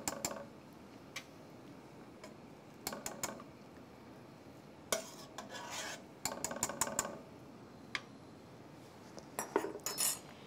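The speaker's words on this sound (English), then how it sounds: "Shake them off with a slotted spoon. Just place them on your baking sheet." Soft pretzel bites lifted with a metal slotted spoon onto a baking sheet, a quiet series of scattered scrapes, clinks and taps with gaps between them.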